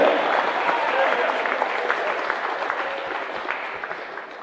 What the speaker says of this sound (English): let's have a round of applause for number 34, Olivia Dixon.